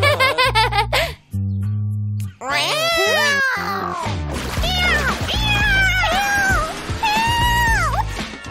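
Cartoon cat meowing among bright, pitched cartoon voices and music, several wavering meow-like cries close and loud with giggly vocal sounds mixed in.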